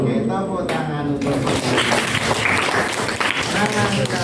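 Classroom applause breaking out after a teacher's voice, a burst of clapping from students that stays fairly loud and dense for several seconds.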